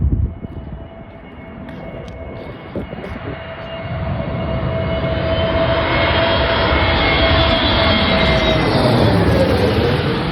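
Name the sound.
Jetstar A321 airliner coming in to land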